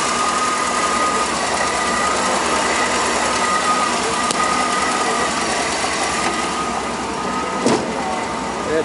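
A fuel-injected Corvette TPI V8 idles in a 1989 Excalibur stretch limo, a steady engine hum with a faint sewing-machine-like tick and a couple of sharp clicks.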